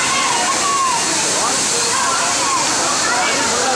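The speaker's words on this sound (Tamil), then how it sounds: "தென்காசி மாவட்டம் குற்றால அருவி ஐந்தருவியில் இன்றைக்கு இன்பச் சுற்றுலாவில் கலந்து கொண்டு ஐந்தருவியில் குளித்து மகிழ்கிறோம்" The Aintharuvi falls at Courtallam, Tenkasi, pour in a loud, steady roar of crashing water with splashing from people bathing beneath them, constant and close throughout.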